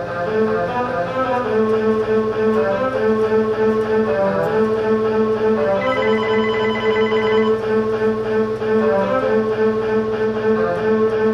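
A telephone rings continuously and loudly with a steady repeating electronic trill, alone with no voices over it.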